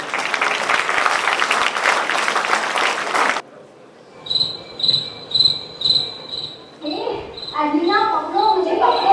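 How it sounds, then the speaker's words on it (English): An audience at a school Patron's Day celebration bursts into loud, dense applause that cuts off abruptly, followed by quiet and then rhythmic chirping tones and music-like sounds. "So let's welcome them with a huge round of applause."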